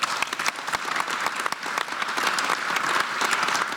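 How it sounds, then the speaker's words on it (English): An audience at a transport outlook panel discussion applauds, with dense, even clapping running steadily throughout at moderate loudness. "A round of applause for Jari and his team that are in the audience that helped produce the Outlook."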